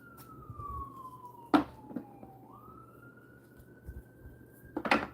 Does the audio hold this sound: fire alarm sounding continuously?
no